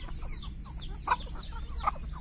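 Several chickens cluck close by while feeding, with two louder, sharper calls standing out over a steady low background hum.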